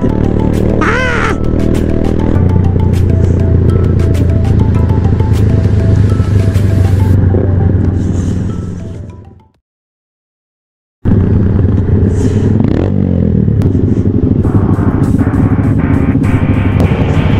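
Motorcycles on a Batangas group ride rumble loudly at close range. The engine noise cuts out briefly, then comes back as the bikes are parked in hot weather. Crow-like calls sound over the steady drone.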